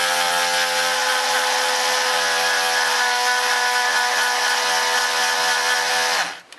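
A power grinder sharpens a chainsaw chain in one continuous loud, high-pitched whine held for several seconds before cutting off abruptly.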